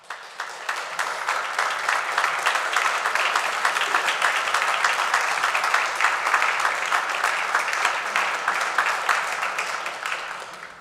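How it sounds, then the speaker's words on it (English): Sustained round of applause from a large audience at a Lyon College fall commencement ceremony, steady dense clapping filling the hall at an even level for about ten seconds before tapering at the end. "Please stand and give a round of applause to your biggest supporters."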